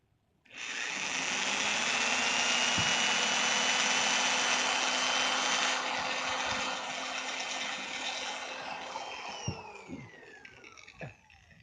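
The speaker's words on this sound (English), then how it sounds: "start drilling the holes." A power drill whines loudly and steadily for several seconds close by, drilling holes to mount a spoiler on a 1998 Mitsubishi Eclipse GS, then winds down with a few clicks and knocks.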